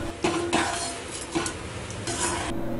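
Egg curry with boiled milk being stirred in a pan, a soft continuous scraping and swirling with light utensil clinks and a faint simmer beneath, no voices.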